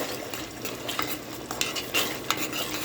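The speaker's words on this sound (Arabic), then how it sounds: "ونخليهم يتقلوا مع بعضهم." Garlic and spices sizzling in a pan of tomato and harissa sauce while a spoon stirs and scrapes, steady frying hiss with clinks of utensil against the pan, no voices.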